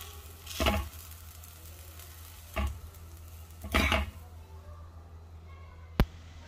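Spinach dosa cooking on a hot pan, a faint steady sizzle under a few soft scraping stirs and a short sharp clink near the end.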